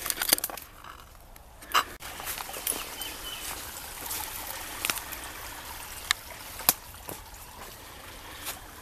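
Creek water flows and trickles steadily near an old ghost-town site in eastern North Carolina, a soft, continuous wash with a few sharper splashes and clicks over it. No one speaks.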